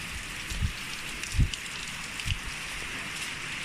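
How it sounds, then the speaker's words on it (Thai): Steady rain falls around an outdoor kitchen in Kengtung, a continuous soft hiss with a few dull low thumps, and no voices. "ฝนตก"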